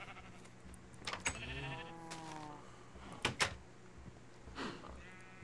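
Sheep in a video game barn bleat in a few brief, quavering calls at moderate distance, interspersed with clicks and other game noises.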